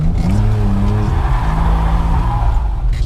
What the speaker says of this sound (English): I just did a mid-transition clutch kick just to keep it sideways